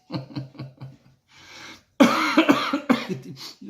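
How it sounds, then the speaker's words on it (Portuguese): A series of harsh coughs, a few short ones at first, then a louder burst of hacking coughs close to the microphone. "Tosse e gripe"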